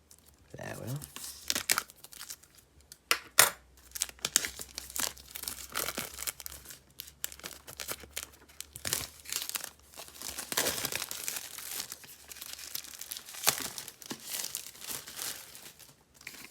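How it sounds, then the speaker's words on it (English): Plastic wrap is peeled and torn off a Doctor Who Season 25 box set, with close crinkling, crackling and tearing in irregular bursts and a person talking intermittently. "So, taking the plastic wrap off"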